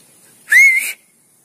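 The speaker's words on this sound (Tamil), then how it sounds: "விசில் பண்ண ஒரு வாட்டி" A single short, clear whistle, about half a second long, blown by a person testing a whistle-detection app on an Android phone, heard alone against near silence.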